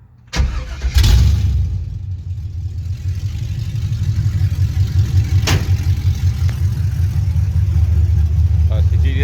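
A 1972 Chevrolet C10 with a swapped-in LS engine and open headers cranks and fires up loudly, then settles into a steady, rumbling idle close by for the rest of the clip.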